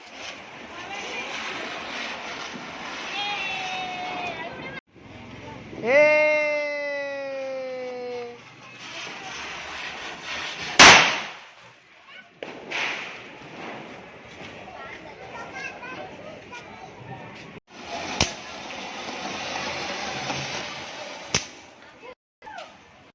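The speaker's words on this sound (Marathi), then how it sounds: "आत्ता चालू आहे फटाके फोडून" Firecrackers go off during a Bhaubeej Diwali family celebration: a whistling rocket rises, then one sharp, loud bang, followed by scattered fainter pops and crackles, with people talking in the background.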